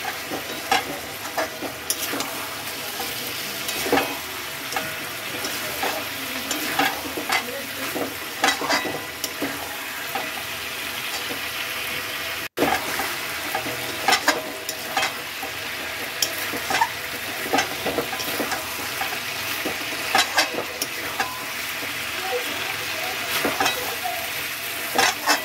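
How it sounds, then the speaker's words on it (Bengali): Chicken pieces sizzle and fry in a pan while being stirred, a continuous loud crackle broken by repeated scraping strokes of the spatula, with no talk. "ভালো রকম বেশ ভাজা হয়ে এসেছে"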